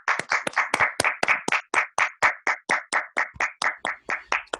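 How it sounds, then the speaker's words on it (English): Clapping at a Toastmasters club induction meeting for Toastmaster Rodney Boodle, heard as about twenty crisp, evenly spaced claps close up, like a single steady pair of hands rather than a crowd. "Round of applause for Toastmaster Rodney Boodle."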